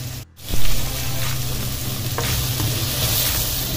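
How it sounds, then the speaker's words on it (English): Chopped tomato sautéing in a hot pan, a steady loud sizzle with a brief dip and then a flare as the pieces are stirred. "so gigisa lang natin to for about a minute or two"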